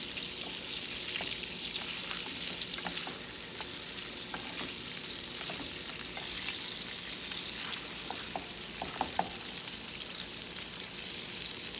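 Food sizzles steadily in a pan for the whole stretch, a constant bright frying hiss with scattered small scrapes and taps from a spatula being worked through it, one slightly sharper clack near the end; no voices.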